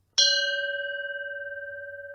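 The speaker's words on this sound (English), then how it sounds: "Beautiful personal meditation bell right there." A Japanese antique meditation bell is struck once, giving a clear bright strike that settles into a pure, long-ringing tone with gentle pulsing resonance that barely fades.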